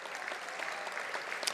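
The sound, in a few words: applause for an assistant women's soccer coach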